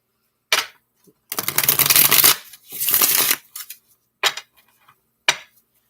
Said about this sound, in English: call out the sign and shuffle them into the deck